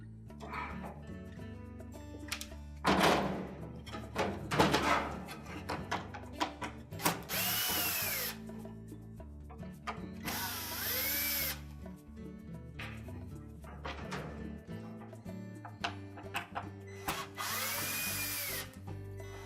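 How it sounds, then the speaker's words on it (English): A power drill on a Frigidaire dryer repeatedly whirs in short bursts as it backs out the screws holding the control board to the console, with quiet handling clicks and rattles between the runs. "Now our next step is to remove the screws that secure that control board to the console."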